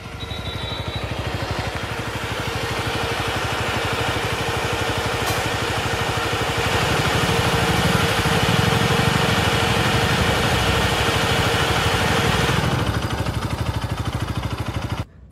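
A 2025 Bajaj Pulsar RS 200 with a liquid-cooled 199.5cc four-valve single-cylinder engine idles steadily nearby, a continuous throbbing rumble that swells slightly mid-way before cutting off near the end.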